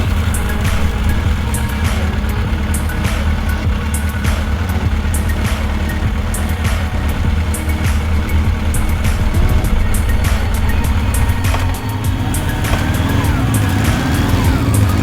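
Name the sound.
motorcycle riding on the road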